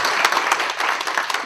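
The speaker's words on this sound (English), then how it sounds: "Let's give Professor Nunez a round of applause." Applause from a lecture audience fills the room with steady, dense clapping. It is loud and close, with scattered sharper claps and no pause.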